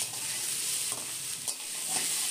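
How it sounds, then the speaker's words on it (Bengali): Potatoes with ginger paste fry in hot oil with a loud, constant hiss close by, and a few soft scraping stirs come through the sizzle. "আদাটাকে আলুর সাথেই কয়েক সেকেন্ডের জন্য নেড়ে চেড়ে নিয়ে ভেজে নেব"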